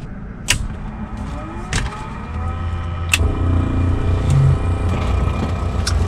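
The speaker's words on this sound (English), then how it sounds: "Let's start the engine." Small aircraft engine starting: a few sharp clicks and whines, then the engine cranks and catches into a steady low rumbling idle that builds slightly, heard close up with no talk.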